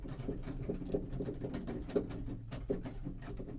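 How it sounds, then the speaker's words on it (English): Noisy clicking keybed of a Nord Electro 6 keyboard: a soft, busy patter of plastic key clicks and thumps as the keys are played, close and steady, with no voices. "The con is the Keybed is very noisy."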